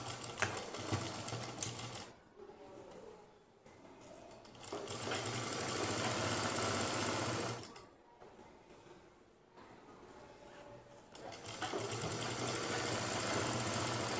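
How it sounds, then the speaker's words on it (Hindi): A sewing machine runs in three long bursts with short pauses between them, close and steady, as it stitches the hem of a slippery dhoti salwar with a five-inch cuff. "अब हम इसकी सिलाई करते हैं।"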